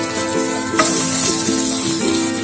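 Ridge gourd cooking in a hot pan, a steady sizzle with a few short stirring scrapes on top, close and fairly loud, no voices.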